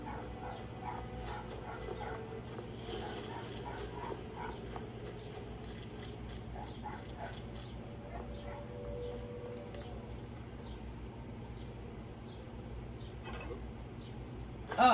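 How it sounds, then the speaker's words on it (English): Neighbor's dogs outdoors giving scattered barks and yips, faint and distant over a low steady background hum, no voices. "I think that's just the neighbor's dogs outside."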